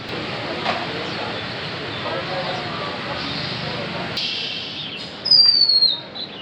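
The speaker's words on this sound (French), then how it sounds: "Ouvrez la cage aux oiseaux." Caged birds in Vietnam chirp over a steady background hum, with a brief, sharp, high tweet standing out loudly near the end.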